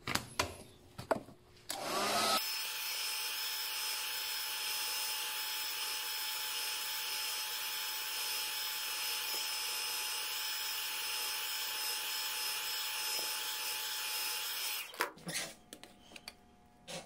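Heat gun blowing hot air onto a plastic piece to bend it, a steady whining airflow hiss that starts abruptly and runs unbroken for about twelve seconds before cutting off, with handling noises before and after.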